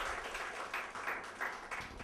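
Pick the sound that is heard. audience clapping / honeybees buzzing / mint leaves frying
audience clapping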